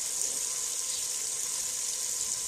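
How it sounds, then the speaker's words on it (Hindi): Water pours steadily into a cooking pot of roasted chickpeas, a continuous soft rushing hiss without pause. "तो इसमें अब डालेंगे हम पानी।"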